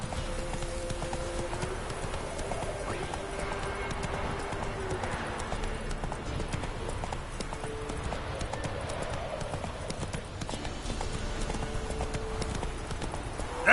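Roach the horse's hooves clip-clop steadily in a video game, a continuous galloping patter with faint game music and ambient tones underneath.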